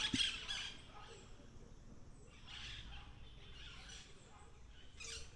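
Faint, distant squawking calls of parrots at a parrot sanctuary in Jamaica repeat in scattered bursts over a low, steady outdoor hum.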